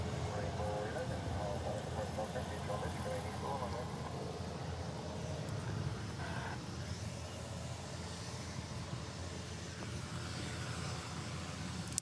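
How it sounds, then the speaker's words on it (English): An orange ANA Airbus A380 airliner taxis after pushback at Honolulu airport, a continuous broad jet-engine rumble and whine carrying steadily throughout, moderately distant rather than close. "So we have our first ANA A380 has pushed back and is on its way over here."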